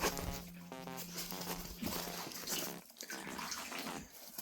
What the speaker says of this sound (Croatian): Ovdje se voda sliva u ovaj tank za napajanje koza.